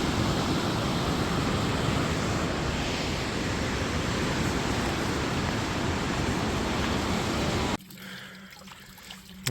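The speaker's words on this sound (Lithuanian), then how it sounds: "O šaltinėlis biškį apsiprausti" A small mountain spring flowing along a hiking trail toward a suspension bridge, a dense, steady rush of water close by for about eight seconds before it suddenly drops away to quieter ambience.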